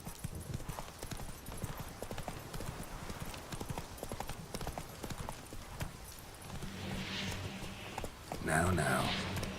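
In Witcher 3, Roach's hooves clatter in a steady galloping clip-clop, then the horse snorts and whinnies briefly near the end, with talk mixed in.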